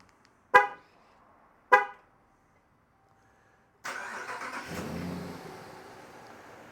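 Two short horn chirps come first, then after a pause a Ram 1500 pickup's engine cranks and catches into a close, steady idle that eases down slightly, with no talking.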